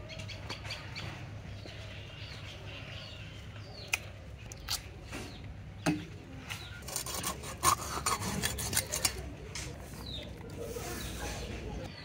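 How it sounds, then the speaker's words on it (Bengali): Knife strokes scrape and thud while a hilsa fish is cut into pieces, in intermittent close rasping bursts, with birds chirping in the background throughout. "রান্নার জন্য আমি এতটুকু মাছ কেটে নিচ্ছি, একটা বড় মাছ কাটছি আর একটা ছোট মাছ কাটছি"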